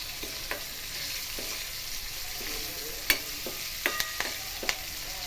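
Tomatoes sizzle in a hot oil tempering for farali moraiya khichdi, with a steady close-up frying hiss and several sharp spoon clicks and scrapes as the pan is stirred.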